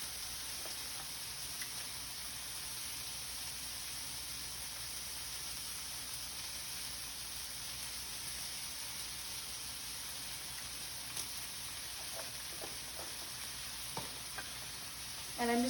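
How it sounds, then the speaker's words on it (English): A pan of sizzling food with paprika and chili powder being stirred in, giving a steady, close frying hiss throughout, with a few faint scraping clicks near the end. "And I'm just gonna stir those in."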